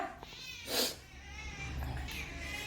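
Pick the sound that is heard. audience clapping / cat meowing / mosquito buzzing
cat meowing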